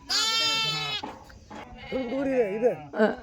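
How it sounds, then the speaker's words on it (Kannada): A ram lamb bleats loudly and close by, several drawn-out quavering cries with short gaps between them. "ಟಗರ್ ಮರಿ ಐತೆ ನೋಡ"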